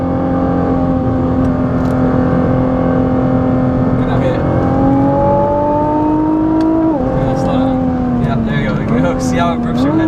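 A 2017 Nissan GT-R pulls hard after a downshift, its engine note climbing steadily through the gears with a sharp shift midway, loud from inside the cabin while occupants talk over it.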